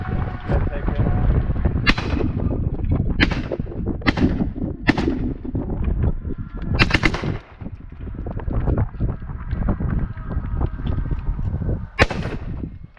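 An AK-47 rifle fed from a drum magazine fires at outdoor targets. Sharp, loud single shots ring out at irregular intervals, roughly seven in all, over a steady rumbling background.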